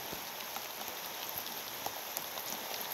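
Steady rain patters on a surface at Laguna de Aculeo, Chile, a soft continuous hiss with scattered individual drops ticking through, fairly quiet and with no voices.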